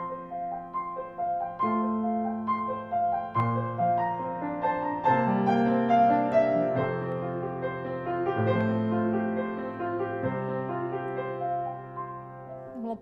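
Piano accompaniment with a repeating right-hand ostinato figure played over changing chords in a song's chorus, steady and moderately loud with sustained bass notes underneath, no voices.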